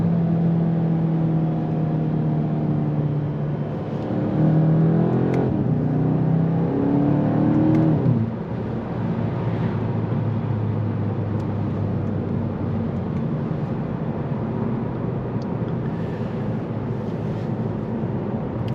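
A Volkswagen Golf 8 GTI with its 2.0 TSI 245 hp engine and DSG7 gearbox on a road drive, the engine rising in pitch through a few gear pulls before settling into a steady cruising drone with tire and wind noise.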